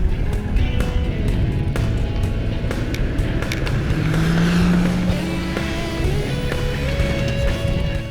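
A Toyota 100 series 4WD grinds uphill during a timed event, its engine droning steadily and loudly with shifting revs throughout, no one speaking.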